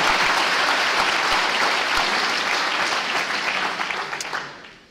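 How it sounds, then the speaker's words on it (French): Warm, sustained applause from a large audience at the inauguration of the Saint-Paul campus in Lyon, greeting two university rectors; dense clapping holds steady, then fades away near the end. "Merci d'applaudir chaleureusement Monsieur Thierry Magnin et Madame Françoise Moulin-Civil"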